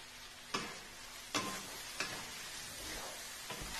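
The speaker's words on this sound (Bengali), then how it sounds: "এর সাথে আমি একটু গরম মশলা গুঁড়ো দিয়ে দিলাম, দিয়ে মশলাটাকে খুব ভালো করে কষবো" Spice paste with garam masala powder being fried and stirred in a pan for a boiled egg and capsicum curry, a soft steady sizzle broken by a few sharp scraping stirs, close and quiet with no talk.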